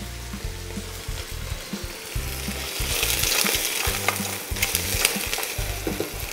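Chopped fennel with garlic frying in a pan for risotto, stirred over high heat: continuous bright sizzling with repeated scraping and clattering of a spoon against the pan, close and without talk.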